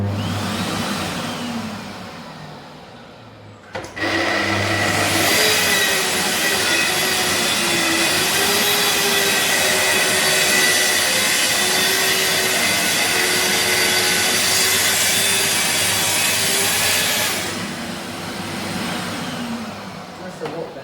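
A power saw with a freshly changed blade, after an old blade dulled by cement board, spins up with a thump and cuts steadily in a loud, sustained, whining run before winding down.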